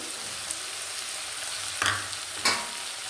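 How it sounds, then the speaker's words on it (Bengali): Ginger and chili paste sizzle gently in a pan for a prawn and vegetable dish, a soft continuous frying hiss broken by two or three brief scrapes of a stirring spoon, with no talking. "এবার নাড়াচাড়া করছে"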